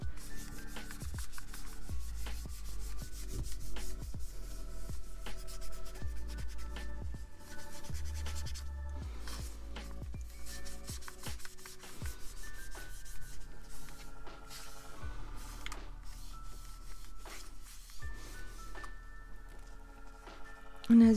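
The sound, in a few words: alcohol pad rubbed side to side on Nintendo Switch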